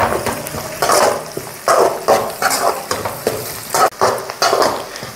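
Onions sizzle and hiss in a hot pan of oil with curry leaves and dried red chillies for a mango fish curry, stirred in repeated scraping bursts roughly every second, loud and close.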